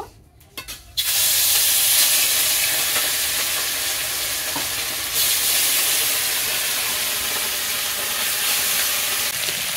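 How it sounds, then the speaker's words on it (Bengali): Rohu fish pieces hitting hot white oil in a pan, a sudden loud burst of sizzling after a brief clatter, then a steady, close, dense spitting hiss that carries on to the end. "মাছগুলো ভালো করে ভেজে নেব।"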